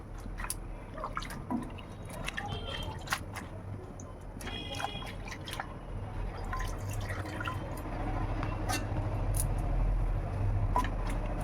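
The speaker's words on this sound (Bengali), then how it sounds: "পাতাটাকে ভালো করে গরম জলে ধুয়ে নিলাম" Bottle gourd leaves being washed in hot water, with scattered drips, splashes and trickles close by over a low background hum.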